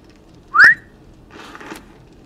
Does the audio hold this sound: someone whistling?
yes